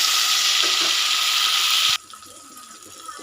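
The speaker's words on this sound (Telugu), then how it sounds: "ఈ పోపులన్నీ బాగా వేగిన తర్వాత ఇప్పుడు వాటర్ వేసుకోవాలి." Water pours into a pan of fried seasoning for upma, a loud, steady hissing gush for about two seconds that stops abruptly, leaving a quiet simmering background.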